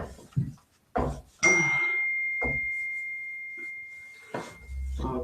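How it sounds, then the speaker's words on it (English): A small dinger bell gives one clear ding that rings on as a long, steady tone, with short bits of noise before it and fainter noise near the end. "Thank you for testing my dinger."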